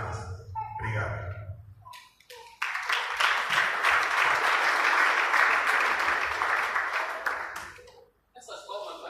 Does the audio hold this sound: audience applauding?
yes